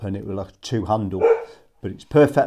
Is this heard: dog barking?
yes